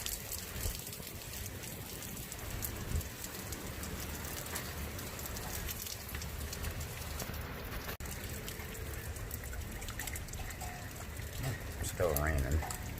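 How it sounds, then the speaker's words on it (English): Steady rain falls during a thunderstorm, a dense, even hiss of drops on surfaces close by, continuous throughout with faint background rumble and a brief knock near the end. "As you can see, it's still raining. It's coming down pretty good."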